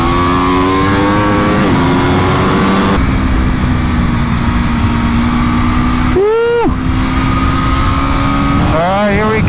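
A superbike, Aprilia or Honda, accelerates hard on a race track, its engine climbing through the gears with sharp rising revs, abrupt shift breaks, and a loud close roar from start to finish.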